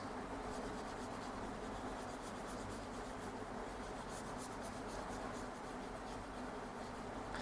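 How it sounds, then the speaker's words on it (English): An eraser rubs across a board during a C++ programming lecture, a continuous soft scratchy wiping sound heard alone for several seconds. "Let me erase it."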